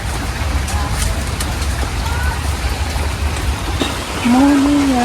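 Steady rain falls outside a village kitchen, a dense even patter close by, with a voice joining near the end.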